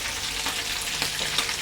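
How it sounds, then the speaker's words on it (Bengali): Fish frying in a pan gives a steady close sizzle with crackling pops and spits scattered through it. "মাছ ভাজা হচ্ছে।"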